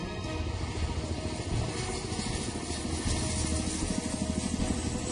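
A Chinook twin-rotor military helicopter droning steadily and loudly for several seconds, a dense continuous engine and rotor roar with no voices over it.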